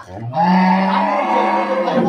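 A Jersey dairy cow at a cattle market gives one long, loud, close moo that sustains for nearly two seconds, preceded by a brief lower sound.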